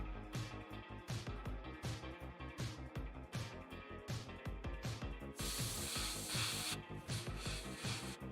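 Aerosol sealant sprayed onto a painted monster prop, a series of short hissing bursts with mechanical clicks between them, close by, then a longer continuous spray near the end.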